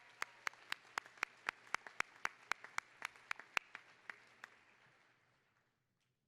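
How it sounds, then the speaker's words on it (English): At a university spring commencement, sharp individual claps ring out in a quick, regular series close to the microphone, gradually spacing out and fading to near silence. "That's another round of applause"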